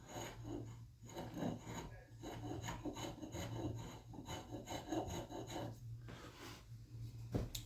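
A steel file rasps back and forth across an axe blade held in a vise, giving steady, close scraping strokes in a continuous rhythm with no talking.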